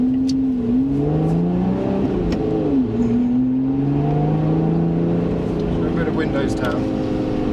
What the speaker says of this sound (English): The throttle response improves a lot as the revs rise.